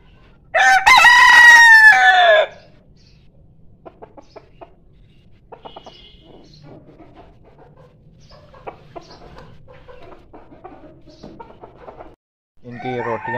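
Golden Cochin bantam chickens in a backyard coop, with one loud close rooster crow near the start, then soft scattered clucks and pecking, and a second burst of clucking at the end.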